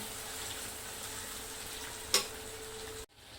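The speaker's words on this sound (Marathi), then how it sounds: "तर आता हे बारीक चिरलेला टोमॅटो आता हे घालायचं आहे। आता ह्याला मऊ होईपर्यंत परतून घेते।" Finely chopped tomatoes and onions sauté in a pan with a faint, steady sizzle, broken by a single sharp clink of a utensil before the sound cuts off.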